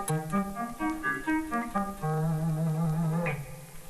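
A dry electric guitar lick with no delay effect runs through quick, bluesy notes and bends over about four seconds, close and moderately loud, with no echo trailing the notes.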